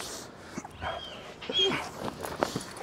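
German Shepherd protection dog during bite training, giving short whimpers, yips and whines at close range, with handlers talking and moving around it.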